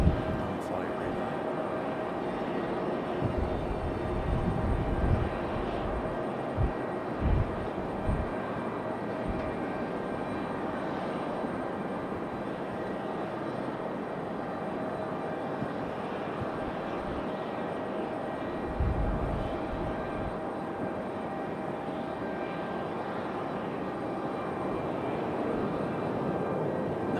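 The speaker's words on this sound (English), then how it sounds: "No fuss for this American A319" An American Airlines Airbus A319 lands in gusty wind at Raleigh-Durham, a fairly quiet, distant engine drone with thumping wind buffets on the microphone throughout.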